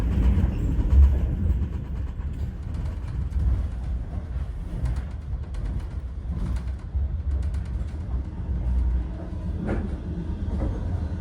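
A passenger train runs on rails on the Hainan Island train ferry route, a steady low rumble with faint rhythmic clatter continuing throughout, close and unbroken, with birds chirping lightly in the background.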